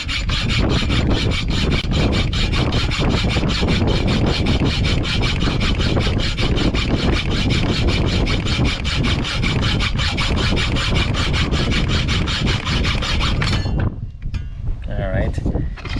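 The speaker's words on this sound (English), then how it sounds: "let's go ahead and cut this tip off with the hacksaw" A hacksaw cuts the tip off a homemade surf fishing rod holder with steady, rapid back-and-forth rasping strokes that run loud and close for about fourteen seconds, then stop abruptly into a quiet pause.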